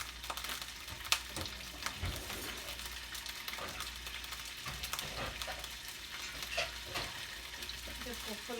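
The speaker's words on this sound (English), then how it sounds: "I'm going to let these start cooking in the pan. You hear the sizzle, sizzle, whizzle." Sausages sizzle and crackle in a frying pan, a continuous fizzing hiss at moderate volume punctuated by scattered pops, spits and the odd clink of a utensil, with no voice over it.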